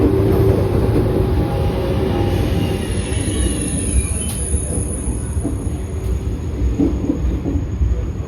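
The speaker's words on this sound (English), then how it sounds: "Here comes our train. It is a PBKA set built by Alstom in 1997." A 1997 Alstom-built Eurostar PBKA high-speed train pulls into Brussels South station, a steady rumble of wheels on rail with high squeals and a few clicks running loud throughout.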